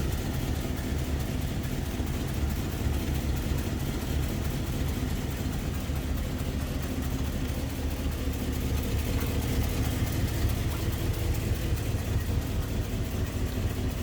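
A 1949 Cadillac 331 overhead-valve V8 engine idles smoothly and steadily at close range, a low even rumble with no voices over it.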